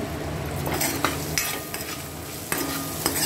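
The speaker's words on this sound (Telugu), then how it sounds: "పోపు బాగా వేగాలన్నమాట" A tempering of green chillies, curry leaves, ginger pieces and raw peanuts fries in oil for a banana flower curry, a soft steady sizzle punctuated by several sharp clinks and scrapes of a stirring spoon in the pan.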